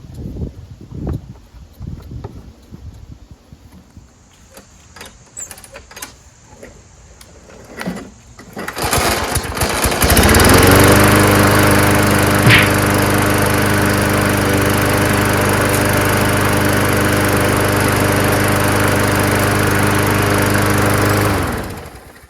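A Craftsman lawn mower is tinkered with through faint clicks and handling noises, then its small engine catches and runs at a loud, steady drone for about twelve seconds before cutting off.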